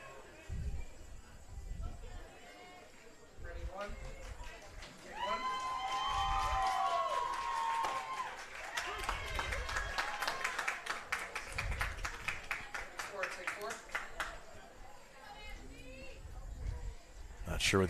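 Crowd at a high school baseball game between Orchard Lake St. Mary's and Brother Rice gives scattered, distant applause and cheering, mixed with crowd murmur, while a commentator talks over it.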